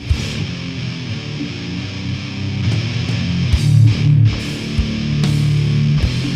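A heavy, distorted European-style doom death metal guitar riff with low sustained chords and slow shifting notes, loud and dark with pounding accents.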